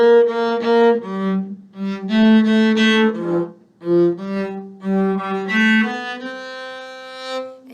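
A solo cello plays a flowing melody, bowed notes rising and falling in phrases with brief pauses between them, clear and close.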